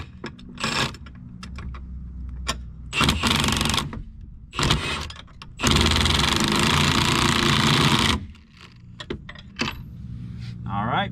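An impact wrench driving bolts on a truck, several short loud rattling bursts and one long sustained run close by, with clinks and handling noises between them.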